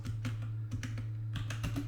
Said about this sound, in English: I suck at typing.